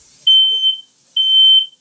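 A household smoke alarm, set off by bacon cooking, gives two loud, piercing high-pitched beeps, each lasting about half a second, separated by a short gap, with no talk.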